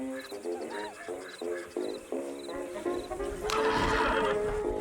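A horse in the video game Red Dead Redemption 2 whinnies several times in quick, shrill bursts, then louder rustling and hoof clops fill the end.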